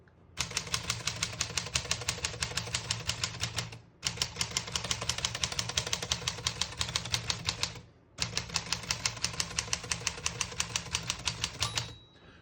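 Rapid, even mechanical clacking of keys on a 1938 Corona Silent portable typewriter in three long bursts, separated by short pauses, close and loud.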